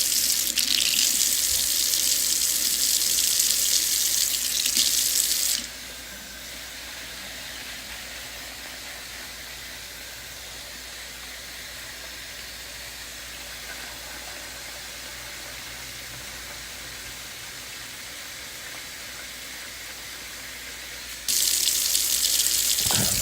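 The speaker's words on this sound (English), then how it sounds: "And all I did was just pour some water into it." Tap water runs loudly into a pot of rice as it is soaked, a steady rushing hiss that cuts off abruptly after about five seconds, leaving a quiet background hum before the flow starts again near the end.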